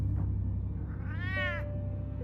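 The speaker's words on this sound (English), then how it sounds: "Skinny looking cat." A skinny cat gives a single drawn-out meow over a low steady hum in Batman: The Telltale Series, close and clear with no talking.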